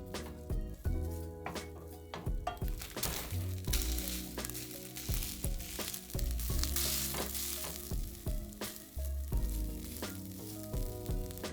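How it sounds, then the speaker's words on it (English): Beefless crumble sizzles and fries steadily in a pan, a loud, continuous crackle with occasional stirring scrapes and no talking. "I'm going to cook the beefless crumble first, and then we'll just toss the Arabiata right in there with it once it's like crisped up"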